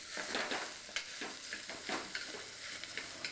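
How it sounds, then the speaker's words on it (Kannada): Sliced okra (ladies finger) fries in hot oil in a pan for bendekai gojju, giving a steady, soft crackling sizzle with scattered pops and no voices. "ಸೇರಿಸ್ಕೊಂಡು ಬೆಂಡೆಕಾಯಿಯನ್ನು 1 ನಿಮಿಷ ನಾನಿಲ್ಲಿ ಹುರ್ಕೊತೀನಿ ಎಣ್ಣೆಯಲ್ಲಿ"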